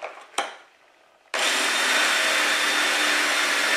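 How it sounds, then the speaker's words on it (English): A power drill bores a hole in a plastic bucket, starting with a couple of short knocks before the motor kicks in and grinds loudly and steadily right up close. "we're gonna drill this hole"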